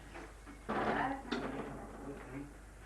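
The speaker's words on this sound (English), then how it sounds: "Open the door." A door opens during a 94th birthday gathering at a home in Lightning Ridge, NSW, Australia: a soft thump and a brief rattle, quiet and close, with faint voices in the room.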